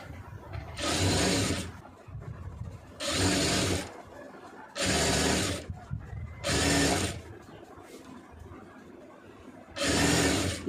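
A sewing machine stitches a folded main fabric piece of a garment at the neckline and shoulder, running in five loud, close bursts of about a second each, separated by quiet pauses.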